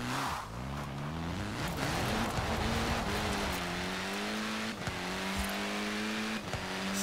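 Car engine in Forza Horizon 4 revving hard, its pitch climbing and dropping sharply at each gear shift, loud and continuous with a brief tire squeal, no talking over it.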